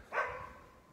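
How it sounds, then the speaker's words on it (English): A single short bark from a dog, fairly faint and close, heard alone against a quiet background. "who are you barking at?"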